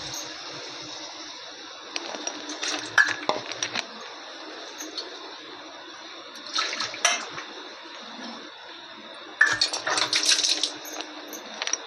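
Water pours into a cooking pan before broccoli is added, coming in several splashing bursts separated by quieter gaps over a low steady background hiss. The sound is close, and no one speaks.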